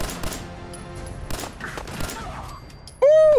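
Several sharp gunshots crack in Fallout 4, spaced irregularly over low background game sound, ending in a bright electronic tone.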